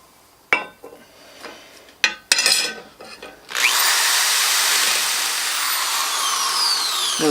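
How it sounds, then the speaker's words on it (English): A few sharp metallic clanks and knocks, then a loud, steady abrasive grinding on metal starts up close and continues without a break. "I gotta put my drill bit back anyway."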